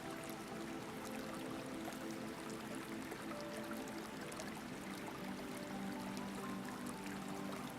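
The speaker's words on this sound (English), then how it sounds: "Cool mist enters through it and carries the sound of a great waterfall." A great waterfall falls beside a stone balcony, its water rushing from a high stone channel in a faint, steady, continuous wash with a soft hum beneath.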